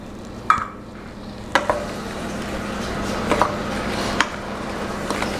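Spoon stirring dried cranberries, nutmeg and cinnamon into apple compote in a pan on a cooktop, with soft scraping and a few sharp clinks against the pan over a steady low background.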